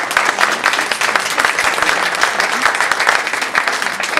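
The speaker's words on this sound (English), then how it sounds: "Let's give them a round of applause" Sustained applause from an audience honoring parents and families at an April 2015 honors day ceremony, steady and dense clapping across the whole stretch with no break.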